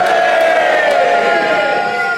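A studio audience at a comedy panel game cheers and boos at the same time, a loud, sustained roar of massed voices that holds steady for a couple of seconds before easing off.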